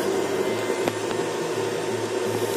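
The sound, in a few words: modified electric fan running fast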